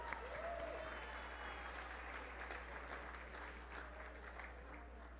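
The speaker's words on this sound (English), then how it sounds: "A round of applause for them." Audience applause at an arts gala, a steady wash of clapping from a room of guests, moderately loud and continuous with a brief voice or tone early on.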